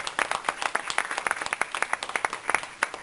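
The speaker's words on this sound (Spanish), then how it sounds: "lo mínimo es un aplauso a los que se merecen los que nos visitan en la red" Modest applause from a church congregation on a Sunday, dedicated to those following online; steady scattered hand claps with distinct individual slaps, moderately close, no talking.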